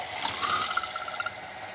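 An Acekool 5-in-1 hand blender with a whisk attachment froths a little water, giving a whirring, rattling mechanical buzz with ticking bursts throughout.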